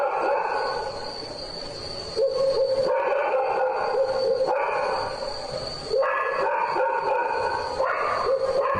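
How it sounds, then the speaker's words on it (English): Dogs bark repeatedly in bursts outdoors, loud and fairly close, with short pauses between volleys and a steady background hum. "Dogs is barking at something."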